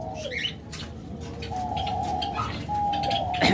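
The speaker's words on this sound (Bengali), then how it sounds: "অসংখ্য পরিমাণ বাজরিগার পাখি তাছাড়া রয়েছে ককাটেল পাখি" Several caged budgerigars and cockatiels call nearby, with soft cooing, short chirps and a few sustained whistled notes layered over a low background hum.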